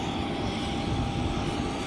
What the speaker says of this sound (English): That's a 20 passenger jet right there.